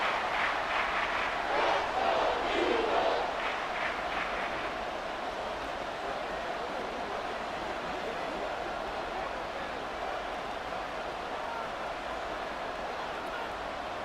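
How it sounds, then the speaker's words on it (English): Stadium crowd roaring in the Madden 24 football game during a Rams versus Eagles simulation, a steady loud wash of crowd noise that swells briefly near the start and then holds continuously throughout. "This crowd turning up the decibel level."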